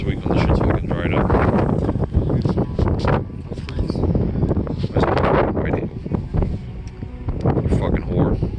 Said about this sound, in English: even though it's kind of windy in the clip